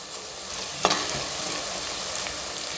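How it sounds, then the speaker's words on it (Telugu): Onions frying in a pot for mutton curry, with a steady close sizzle that runs the whole time and one sharp clink of a utensil near the start. "ఆనియన్స్ గోల్డెన్ బ్రౌన్ కలర్ వచ్చే వరకు మనం ఫ్రై చేసుకోవాలి"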